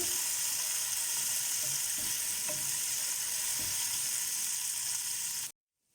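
Food frying in a pan for an East African stew, a steady dense sizzle running loud and even for several seconds before cutting off abruptly into silence.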